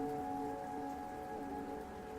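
Rain trickles down the wide, curved windows of a monorail car gliding through a neon-lit city at night. The patter stays soft and even, laid over a gentle sustained musical drone.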